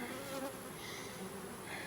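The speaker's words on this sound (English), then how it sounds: "So I'm excited about these bees." Honeybees swarm around a double-deep hive in a steady, dense buzz that stays even and close, with no voices over it.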